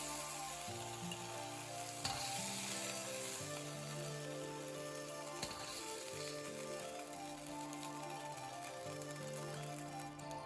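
Shrimp stir-fry in a hot pan for shrimp with cashews, a steady sizzle that lasts throughout, with occasional stirring, under continuous background music.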